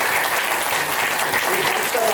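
An audience at a public gathering bursts into applause, a dense, even patter of many hands clapping at once, fairly loud and sustained, with some voices mixed in.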